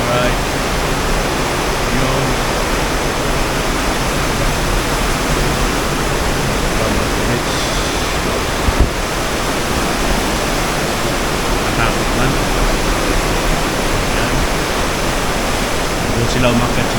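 River water rushes near an irrigation system in Ifugao, a dense, steady roar that fills the whole clip at close range, with no breaks and no distinct splashes.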